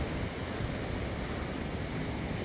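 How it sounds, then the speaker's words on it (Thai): Strong sea waves roll onto Hua Hin beach on a windy, cold day, a dense continuous roar of surf mixed with wind noise across the whole stretch. "แล้วก็มี ลมแรงนะครับทำให้ คลื่นทะเลค่อนข้างจะ แรงนิดหนึ่งนะฮะ"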